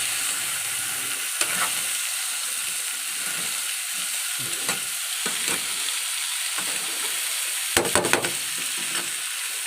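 Crab curry sizzling and frying steadily in a pan, with a continuous close hiss broken by occasional scrapes and clinks of stirring.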